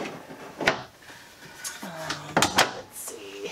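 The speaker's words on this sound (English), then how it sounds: "Three drawers." Bathroom drawers in a 2021 DRV 41 RKDB luxury fifth-wheel RV open and close with a few sharp wooden clunks and short sliding rattles, close by, while a voice speaks softly in the room.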